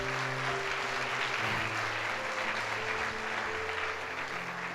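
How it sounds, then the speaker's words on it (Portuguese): A church congregation applauds steadily and evenly throughout at moderate volume, with sustained keyboard or organ tones held underneath the clapping. "Diga obrigado e dê um aplauso ao Senhor Jesus"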